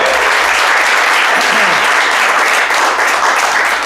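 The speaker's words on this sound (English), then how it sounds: "First of all, another round of applause for Merrill." Audience applause at a borough council meeting, a steady dense wash of clapping from a room full of people lasting several seconds, loud and close.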